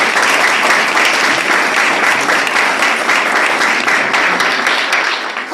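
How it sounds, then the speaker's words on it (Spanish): An academic seminar audience applauding a speaker, dense steady clapping from many hands sustained loudly throughout and tapering slightly at the end. "por favor, ayúdenme con otro aplauso para Claudia."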